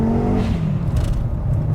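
A hybrid-turbo Audi RS3 estate engine revs up with a rising droning note that eases off into a lower rumbling whir, close and fairly loud, with no talking.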